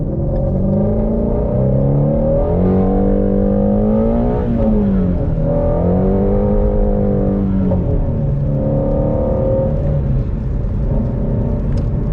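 A Shelby GT350 with open exhaust, on Cup 2 tires with traction control on, accelerates hard at high RPM, its loud engine note rising and falling through the gears with no talk over it.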